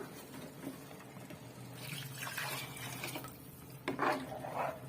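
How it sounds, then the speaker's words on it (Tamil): Water pours into a pan of mint biryani masala as a soft, steady trickle, with faint clinks of a vessel near the end. "இப்ப தண்ணி சேர்த்துடலாம்."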